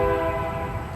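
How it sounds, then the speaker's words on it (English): A train horn blares steadily for the full second, loud and close, with rumbling rail noise beneath, near an airport. "the train sounded"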